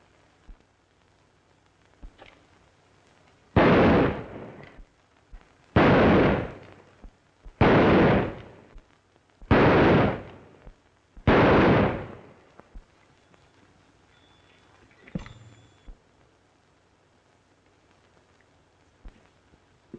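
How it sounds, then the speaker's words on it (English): Five loud, evenly spaced gunshots from target shooting in a 1939 western film, each sharp crack followed by a short decay, then a fainter distant shot after a pause. "That's pretty good shooting."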